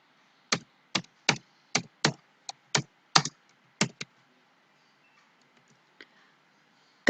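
Keys on a computer keyboard pressed one at a time while typing into an Excel spreadsheet: about ten crisp, close clicks at a steady pace, then quiet with one faint tap and a final click.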